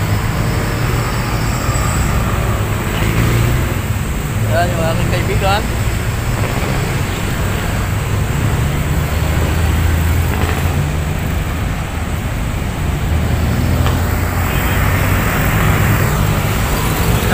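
Dense road traffic beside Luneta Park in Manila, a constant low rumble of passing vehicles with occasional higher engine or horn sounds, heard under someone talking as he walks.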